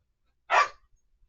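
A dog gives one short, sharp bark close by, clearly heard against otherwise near-silent surroundings.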